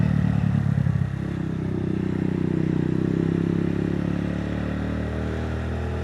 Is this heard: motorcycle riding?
yes